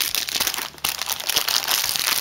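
A clear plastic bag used as packaging for a resin figure crinkles and crackles up close as it is handled, in busy, uneven bursts with no talking.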